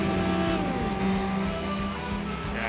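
Replay of a BMW 3 Series 330i racing in Gran Turismo 4: a sustained engine drone with pitch sweeps as the car shifts and accelerates, loud and continuous with no talk.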